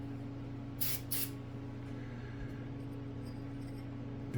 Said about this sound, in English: Let's do a little tiny corner with some carb cleaner and see what happens.